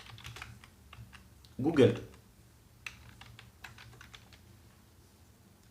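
Brief burst of typing on a computer keyboard in a quiet room, a short cluster of quick key clicks near the middle with a few isolated taps afterward, while someone speaks French over it.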